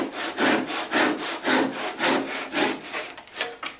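An inexpensive handsaw cuts a 45-degree miter through a backed-up piece of 2x wood, its rasping strokes coming in a steady rhythm of about seven close, loud pushes and pulls with no talking.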